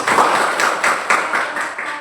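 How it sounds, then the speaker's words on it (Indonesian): Students in a classroom during a biology lesson clap together in a short burst, the claps falling in a quick, loose rhythm and heard close. "Berikan tepuk tangan untuk Muka."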